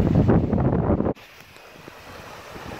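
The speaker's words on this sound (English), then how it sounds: "The wind's easing." Wind gusts buffet the microphone at the seashore, loud for about a second before cutting away to a much quieter, faint airy background.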